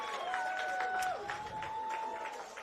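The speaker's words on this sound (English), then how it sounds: "you can hear the cheers for Taylor Wason from the crowd" Crowd cheering and whistling at a QAFL elimination football final, Morningside v Broadbeach, a distant roar with sustained whistles and scattered claps throughout.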